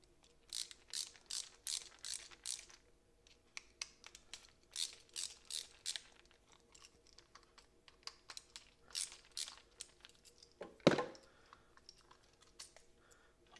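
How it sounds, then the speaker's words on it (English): A small Milwaukee ratcheting screwdriver backs out a screw during work on an AC-DC converter for a buzz box welder, giving rapid clustered ratchet clicks in repeated bursts, fairly close and light, followed by a single sharper knock. "Using our little ratcheting screwdriver. I love this little Milwaukee ratcheting screwdriver."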